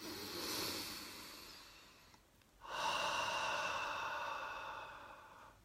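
Two long, deep breaths close to the mic: a slow airy inhale, a brief pause, then a fuller exhale.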